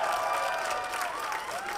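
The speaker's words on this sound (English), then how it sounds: "Can we get a one last round of applause for all the speakers that came out today?" A crowd at an outdoor climate strike rally at City Hall gives a brief round of applause, with dense clapping mixed with scattered voices and cheers.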